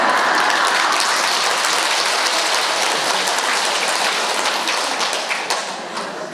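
Vigorous clapping from a temple lecture audience at Chunghyosa, loud and close, a thick continuous patter that tapers slightly near the close.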